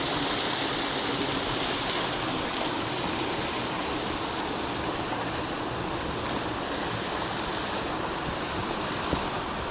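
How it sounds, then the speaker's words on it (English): A small brook winds through a valley toward the River Wansbeck, its water babbling in a steady, even rush that stays close and continuous throughout, with no voices. "So this little brook is just S-bend after S-bend going up and round to the left."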